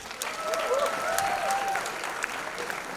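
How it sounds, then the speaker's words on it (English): Audience at a film school convocation ceremony breaks into steady applause, close and sustained, with a faint voice briefly rising over the clapping early on. "So a round of applause for yourselves, please"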